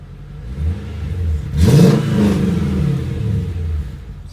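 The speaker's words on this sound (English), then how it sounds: "this guy put a ridiculous Flowmaster muffler on it, so you guys are going to hear some sounds" A Mercedes SL500 V8 engine with a Flowmaster muffler idles with a deep, throaty burble, then revs up sharply once before settling back to a loud, rumbling idle.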